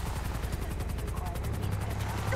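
Low-flying helicopters in the video game GTA V give a steady rotor chop with a rhythmic pulsing flutter and heavy low rumble, close and continuous over a short stretch.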